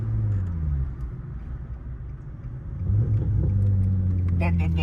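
Nissan 350Z exhaust burbling at idle, a deep low rumble that rises in level partway through as the engine picks up, with people talking over it near the end.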